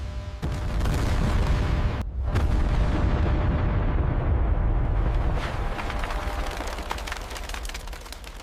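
A controlled rock-blasting detonation in a tunnel at a hydropower dam construction site booms loudly, with a sharp second blast and a long rumbling reverberation that slowly fades.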